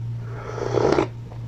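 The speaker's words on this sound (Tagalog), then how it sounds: "Higop." Someone slurps hot beef meatball soup, a single close, breathy suck swelling for about half a second over a steady background hum, with no talk.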